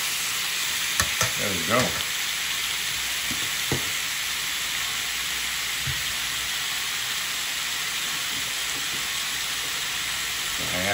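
Chicken for a cheesesteak sizzles loudly in a pan, a dense, close hiss that holds steady throughout, with a few utensil clicks early on and a brief spoken remark.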